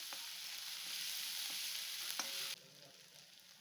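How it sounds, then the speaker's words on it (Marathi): Spice masala sizzles in hot oil in a pan for a cabbage stir-fry, a steady bright frying hiss that drops to a quieter crackle partway through, close and without speech. "हा मसाला तेलामध्ये भाजून घ्यायचा आहे"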